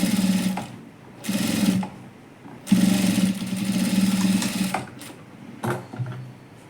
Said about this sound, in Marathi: इथून असं इथंपर्यंत इथंपर्यंत शिवून घ्यायचं म्हणजे हे आपले कप्स प्रॉपर अटॅच होतील